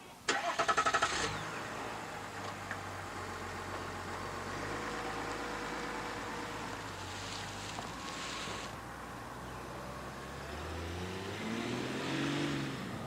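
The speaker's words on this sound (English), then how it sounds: "This one makes do with a, don't call it mediocre, turbo diesel straight 6" A used Cadillac Platinum Escalade with a turbo diesel straight six starts with a brief cranking burst, then settles into a steady low idle with a slight rev near the end, close and moderately loud, no talk.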